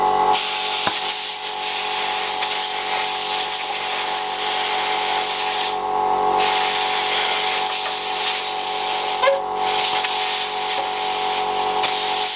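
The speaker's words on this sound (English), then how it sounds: "you get a bit of compressed air and you welly it" A long, steady hiss of compressed air is blasted onto mountain bike parts, loud and continuous with only brief dips.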